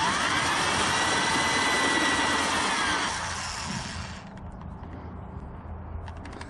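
A drill boring a half-inch hole in a plastic gas can gives a loud, high whine for about three seconds, then winds down into quieter rustling and faint knocks.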